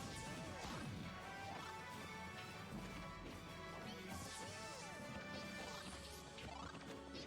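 Pikachu lands smash attack hits in a Super Smash Bros match, with crashing, thwacking impacts over a busy, continuous wash of game sound, heard faintly and at a distance.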